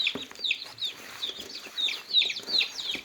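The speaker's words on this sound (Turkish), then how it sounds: "Bugün sizlere bazı civcivlerimizden bahsetmek istiyorum." Rapid high-pitched chick peeping, a continuous stream of small chirps close by, with faint clucking and soft background noise.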